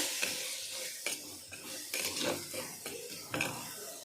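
A utensil scrapes around a frying pan, stirring in chili powder for a curry, in repeated strokes, each scrape crisp over a soft background sizzle.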